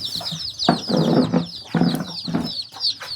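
Chickens cluck and call close by on a rural Thai homestead, with repeated clucks and a few short wing flaps, while a high steady insect-like chirring runs underneath.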